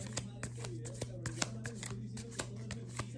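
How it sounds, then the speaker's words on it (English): Deck of tarot cards being shuffled by hand, a steady run of crisp riffling flicks and soft slaps close up, repeating rhythmically over a constant low electrical hum. "So now I'm going to shuffle the best that I can."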